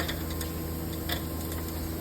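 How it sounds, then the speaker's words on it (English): A ratcheting wrench clicks in quick, repeated ticks while turning strut bolts on a 2007-2014 Ford Edge, faint and close over a low background hum. "I'm going to use a ratcheting wrench to get back there and get them"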